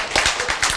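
Audience clapping at a spoken lecture, a quick rhythmic burst of many hands, dense and steady, with no voices over it.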